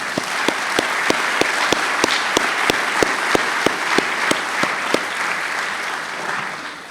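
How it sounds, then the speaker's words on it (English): A large audience at a distinguished speaker event claps loudly and steadily for a university president, with a few sharp claps standing out near the front before the applause eases off. "this is where you clap for your president"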